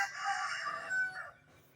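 A rooster crows once, a fairly close, loud call with a rising then sustained shape that trails off after about a second and a half, with no talking.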